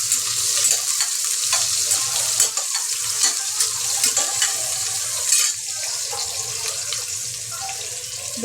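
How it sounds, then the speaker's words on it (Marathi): Thinly sliced onion hisses and crackles in hot oil with asafoetida for a Marathi-style mutton curry, a steady close sizzle broken by occasional stirring scrapes, with no talking. "तर कांदा आपण चांगला परतून घेऊया"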